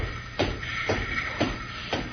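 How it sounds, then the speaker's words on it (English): Footsteps sound effect in an old-time radio drama, heard as four slow, evenly spaced steps, soft and muffled, over a steady background hiss with no voices. "Billy, I hear footsteps"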